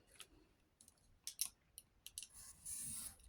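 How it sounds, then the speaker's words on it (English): Scissors snip through paper card in a few short, separate crisp cuts, close and fairly quiet, ending in a longer sustained slicing stroke. "I'm going to cut that down to 5 1/4."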